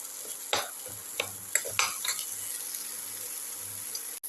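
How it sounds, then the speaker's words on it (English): Food with salt sautéing in a pan for a ginger tomato rice dish, a low hiss punctuated by several distinct spatula scrapes and taps early on, then calmer sizzling. "Keep on sauteing."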